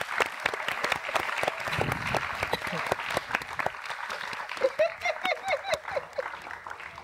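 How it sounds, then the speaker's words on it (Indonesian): Studio audience on a television show breaks into applause, with dense clapping early that thins out, and a voice and some tonal sounds emerging in the later part. "saat kamu mendengar tepuk tangan yang sangat banyak dan keras sekali"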